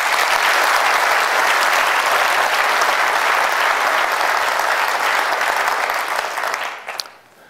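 Warm, sustained applause from a large audience thanking event volunteers at a mayor's speech, loud and dense for several seconds before fading out.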